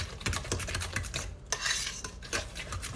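A utensil scrapes and clinks around a bowl while creamy egg salad with cream cheese and bacon is mixed, a close, rhythmic series of stirring strokes and taps with no talking.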